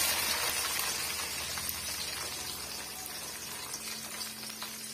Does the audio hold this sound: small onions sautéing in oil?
yes